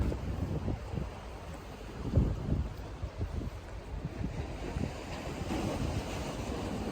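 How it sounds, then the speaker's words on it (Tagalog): Steady ocean surf on a Taiwan shore rolls and washes continuously, with a few heavier wave crashes and some wind rumble, no voices. "hindi gano'ng malakas yung alon ngayon"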